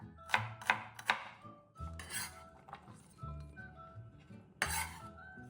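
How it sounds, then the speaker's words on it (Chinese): Knife work on garlic cloves being finely cut for a Malaysian sambal: a quick run of three sharp taps, then scattered clinks and knocks of blade and board, close by, over faint background music. "蒜瓣50克，一样切细"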